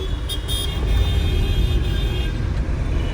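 A car driving on the road, heard from inside as a continuous low engine and road rumble with a brief horn-like tone near the start, steady and close with no talk.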